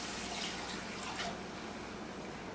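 Water pours steadily into a cooking pot of bacon and peas, a constant faint rushing stream with no talking.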